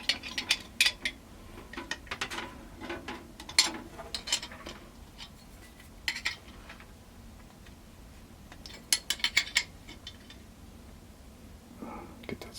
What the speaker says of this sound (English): And then we'll tighten this down here. We'll just take a couple wrenches.